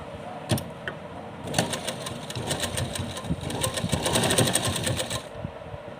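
A sewing machine stitches a cord in place on a small Laddu Gopal summer dress: one brief tap, then a rapid, close, rattling run of stitches for several seconds before it stops.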